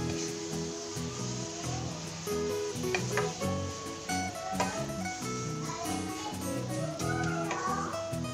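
Modak filling with cardamom powder roasting in a pan gives a steady, soft sizzle with occasional stirring scrapes, heard under continuous background music.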